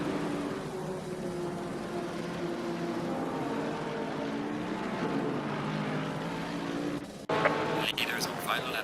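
GT race cars in a GT World Challenge America esports race at the Nürburgring give off a steady, droning engine roar with shifting pitch under continuous commentator talk, and there is a sharp burst of louder noise near the end.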